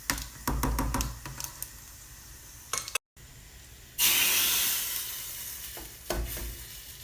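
Garlic fries in a pan for dal, browning toward the edge of burning, with a steady sizzle and stirring scrapes, a brief gap in the middle, then a louder burst of hissing spatter that gradually settles.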